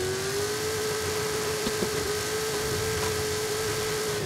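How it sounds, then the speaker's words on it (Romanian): A 1983 GMC Vandura G 1500 van, stage-3 tuned to 1750 hp in Forza Horizon, holds a steady high-revving engine drone with wheels spinning, loud and sustained, with no talking. "derapăm foarte tare și roțele se învârt foarte, mult în, gol."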